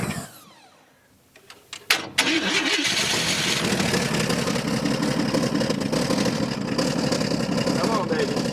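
An old car's engine cranks with a few uneven starter bursts, then catches into a loud, steady running roar, close by.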